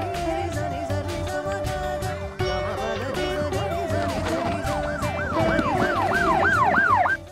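An ambulance siren arriving at a school wails loudly and continuously, its rising and falling tone sweeping faster toward the end over steady vehicle rumble, with no one talking.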